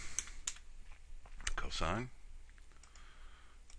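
Mouse clicks and keyboard keystrokes on a computer during a trigonometry spreadsheet lesson, a few sharp close clicks scattered under a voice.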